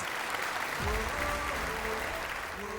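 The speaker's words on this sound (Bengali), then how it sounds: "একবার জোরে হাততালি হয়ে যাক please" A studio audience at a police talent-show elimination round claps steadily for the top 20 contestants, dense sustained applause filling the room, with faint tonal sound underneath.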